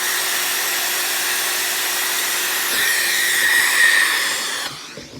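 A dust-extraction vacuum attached to a Festool HSK 80x130 hand sander roars loudly and steadily while sucking up dust, then cuts off abruptly near the end.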